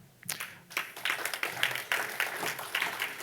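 Audience applause at an awards ceremony for award winners: a dense, steady wash of many hands clapping, moderately loud and sustained throughout with no talk over it.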